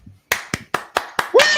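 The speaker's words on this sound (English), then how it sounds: "we are clapping for a reason and we clap for everybody" A few sharp, close handclaps ring out in an even rhythm, five in quick succession, followed by a whoop-like voice cutting in at the end.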